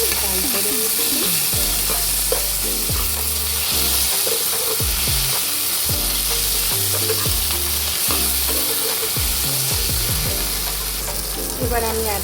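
Onions and tomatoes fry in a pan for a stuffed aubergine filling, with a steady loud sizzle and repeated scraping stirs of a utensil throughout, no voices.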